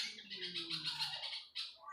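Birds in mango and jasmine trees beside a home give a faint, brief burst of squawking, raspy calls, with a second short call right at the end.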